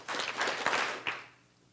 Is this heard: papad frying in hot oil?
no